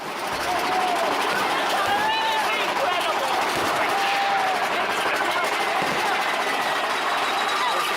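Thunder Mountain roller coaster ride at Disneyland, a loud continuous rumble of the moving train with wheel and track noise, crowd voices and people talking and shouting throughout.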